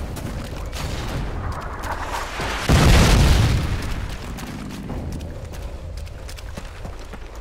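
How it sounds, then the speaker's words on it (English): A Predator missile strike explodes in the Call of Duty: Modern Warfare 2 game on the Wasteland map, a single loud, deep boom near the middle that rumbles and fades over steady battlefield background noise. "Friendly Predator missile inbound."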